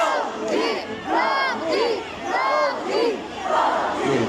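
A concert crowd at an outdoor mall stage in Mandaluyong cheers and chants in loud, rhythmic group shouts, repeating roughly once per second.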